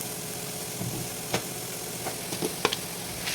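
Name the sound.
stirring spices into frying oil in a pan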